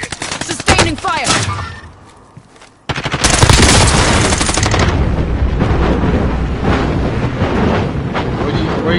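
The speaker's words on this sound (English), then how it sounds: "Where are you getting shot at, from?" Rapid automatic gunfire in the video game Call of Duty Warzone, loud, dense bursts at the start, a short near-silent gap, then continuous heavy firing and combat noise filling the rest.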